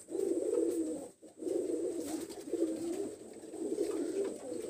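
A pair of New Running pigeons coos in soft, low, rolling phrases, repeated steadily and close by with a brief pause, against a faint high hiss.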